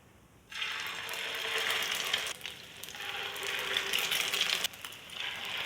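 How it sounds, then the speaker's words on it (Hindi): Egg-coated kebabs fry in a pan, a soft steady sizzle that starts abruptly after a brief quiet moment and carries on with slight dips in intensity. "तो चले कबाब फ्राई करते हैं।"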